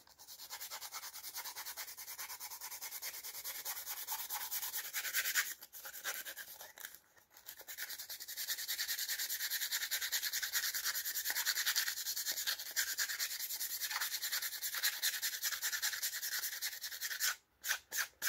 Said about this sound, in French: je vais l'enlever en frottant, tout doucement